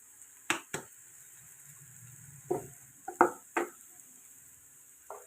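Mashed potatoes being stirred into vegetables in a warm pan, giving a few soft, scattered scrapes and clinks over a faint low sizzle, close and quiet with no talking.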